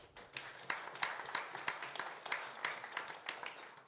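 Scattered clapping from a smallish audience at a venture capital panel event, individual sharp claps standing out in an irregular rhythm, fairly quiet and somewhat distant, with no voices on top.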